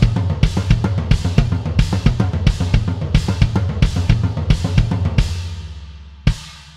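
A drum kit pounds out a driving pattern of five sixteenth notes, with rolling toms and a splashy China cymbal crashing on the accents, loud and close in a rock track; a final hit rings out alone.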